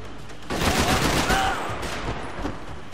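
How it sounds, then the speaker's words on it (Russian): Gunfire in the video game Max Payne 3: a loud, rapid burst of shots that starts half a second in and keeps going, close and continuous, with a few faint tonal game sounds mixed in. "Стреляет."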